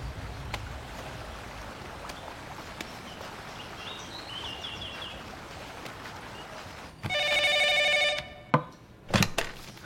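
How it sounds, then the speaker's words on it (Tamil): An old telephone bell rings loudly in a burst of about a second and a half, then two short rings follow after a pause, all over a steady low background hiss in a Tamil drama scene. "சார் ஃபோன் வந்துருக்கு."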